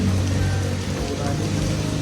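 Rain falling outdoors, a steady dense hiss of drops on surfaces with a low rumble underneath, continuous throughout.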